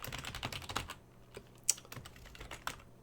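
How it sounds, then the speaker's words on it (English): Quick, uneven keystrokes on a computer keyboard, close and fairly quiet, with clustered clicks and a few sharper taps, no talking. "I'll type it out."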